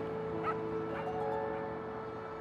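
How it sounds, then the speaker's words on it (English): A dog lets out a few faint yips and whimpering barks at a distance, partly buried under a steady tonal hum. "He barks."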